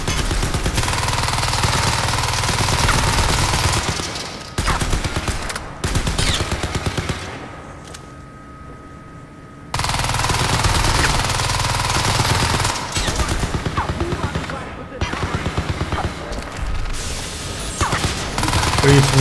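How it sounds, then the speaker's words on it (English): Sustained automatic gunfire aimed at a turret in the video game Crysis 3, loud dense bursts with a brief lull midway before the shooting resumes, mixed with game effects. "We can hack the turret, but I don't feel like it. I just want to shoot it."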